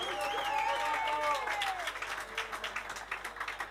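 Audience applause at the Ribeiro Son de Viño music festival: a crowd of clapping hands rises after a brief sung or whistled tone fades, then continues as a steady patter at moderate distance.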